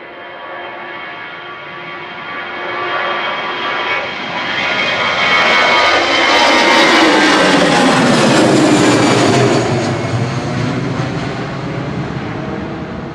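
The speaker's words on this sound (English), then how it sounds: "Departing now is EasyJet 3838 to Milan." An EasyJet Airbus A320 Classic departs Manchester Airport for Milan, its jet roar building from a distant rumble to a loud, broad peak mid-climb and then easing slightly as it pulls away.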